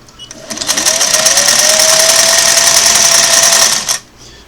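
A Singer Model 404 sewing machine runs steadily for about three and a half seconds, sewing a long stitch through three layers of fabric. It produces a loud, continuous mechanical whir with a rapid needle rhythm, then stops abruptly.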